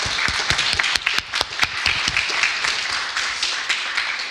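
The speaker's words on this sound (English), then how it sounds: "please join me again in a round of applause for Professor Nacken." Audience in a conference hall applauding after a talk, a loud, close burst of many hands clapping, thick at first and thinning toward the end.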